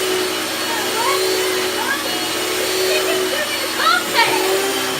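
A 1980s U.S.-model Hoover Spirit S3261 upright vacuum cleaner with a Quadraflex Powermatic head runs with a steady, fairly loud motor whine, while people talk over it.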